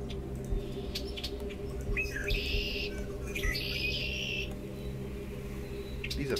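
Birds in the game Domina, two clear warbling chirp phrases close together, bright and distinct over a steady low background hum, with a few faint extra tweets around them.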